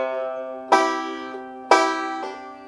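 Banjo in double C tuning plays the opening phrase of a song: a few bright plucked notes and two strong picked accents, each ringing and decaying, heard alone and fairly quiet.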